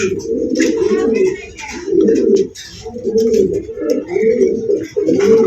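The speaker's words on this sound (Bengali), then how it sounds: "খুবই সুন্দর এক জোড়া সেটেল আউল কবুতর আছে" Fancy owl pigeons, a breeding pair in a loft, coo in steady, repeated throaty rolls, close and loud, with faint chirps from other birds behind.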